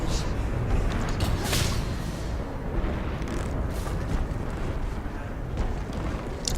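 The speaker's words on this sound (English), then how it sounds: "Now there's a tornado out there now, as you can probably hear, which like stuns you and kills you" A tornado in the fantasy game Dragon's Dogma Dark Arisen makes a continuous roaring, gusting rush with crackling bursts that stays steady and dense throughout, without any audible talk.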